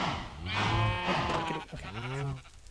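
Minecraft sheep bleat in a few wavering, close calls one after another, clear and alone without talk.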